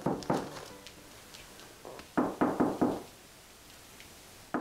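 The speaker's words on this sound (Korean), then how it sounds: "문을 두드리는 소리도 구름이에겐 중요한 신호입니다." Knocking on a door in a home shared with a hearing dog: two quick knocks, a pause, then a firm run of four raps, close and clear with no talking.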